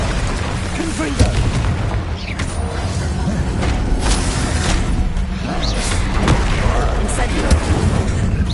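Explosive Confringo spell blasts in Hogwarts Legacy combat, a continuous barrage of booms and crackling impacts mixed with game effects, loud and dense throughout, with a voice shouting over the action.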